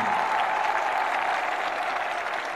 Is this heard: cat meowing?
no